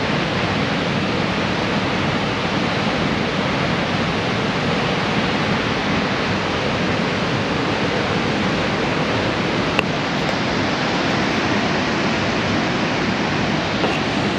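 A powerful river waterfall in Yellowstone roars as a dense, constant rush of falling water, loud and unbroken with no voices over it.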